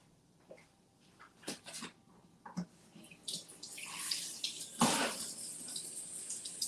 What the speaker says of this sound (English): I think I'm going to rinse these again.